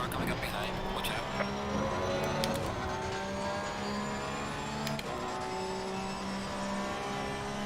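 Race car engines in Assetto Corsa Competizione at the Bathurst 12-hour endurance race, with a steady droning engine note and a faster car closing in from behind, all under a voice talking.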